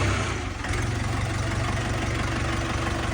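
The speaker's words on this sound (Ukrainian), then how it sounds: "тест-драйву трактора джинма 404 з кабінкою" A Jinma 404 40-horsepower tractor's diesel engine idles with a steady low, throbbing rumble, close and continuous for a few seconds with no talking.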